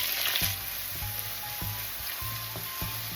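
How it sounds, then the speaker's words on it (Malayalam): Dry coconut, mustard seeds, curry leaves and onion frying for a Kerala beef fry, a steady close sizzle with faint low thumps recurring every half second or so. "കൊട്ടത്തേങ്ങ ഒന്ന് വറന്നൊക്കെ വരുന്നുണ്ട്"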